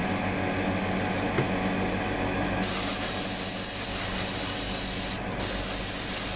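Airbrush spraying metallic paint thinned with Mr. Color Rapid Thinner for a plastic model kit, a close, steady hiss that grows stronger partway through and briefly drops out near the end, with no talk.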